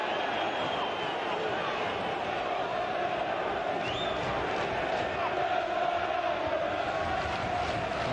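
A Bolton Wanderers football crowd sings and chants in a stadium, a steady, massed roar that holds throughout, with a commentator talking over it.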